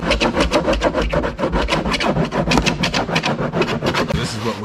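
A cheese grater file rasps across body filler on a new truck's tornado-damaged panel, fast rhythmic back-and-forth scraping strokes, loud and close, continuous throughout.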